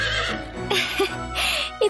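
A horse in a Fire Emblem Warriors: Three Hopes game scene neighs and whinnies in a few short rising calls amid game music and ambience, close and fairly loud.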